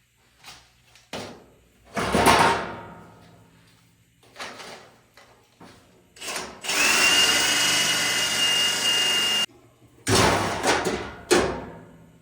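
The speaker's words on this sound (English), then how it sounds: "We're gonna have to screw it down." A power drill drives screws to fix a wheel tub panel on a Toyota Land Cruiser, with several short whirring bursts, one long sustained run in the middle, and more bursts at the end, close by.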